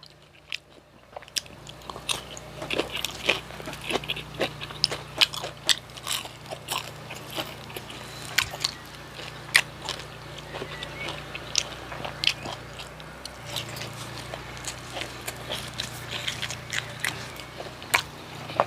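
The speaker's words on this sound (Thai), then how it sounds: "กินกับพริกก็รสอร่อย" Close crunchy biting and chewing of spicy sour bamboo shoot soup eaten with chili, Isan style, with repeated sharp bites and mouth sounds running steadily throughout, no talk.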